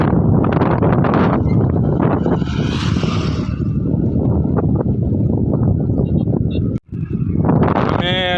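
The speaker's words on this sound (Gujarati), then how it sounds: "બહુ પવન છે આજે" Strong wind on a summer day buffets the microphone outdoors in a loud, continuous rumbling roar with gusty swells, briefly cut out near the end.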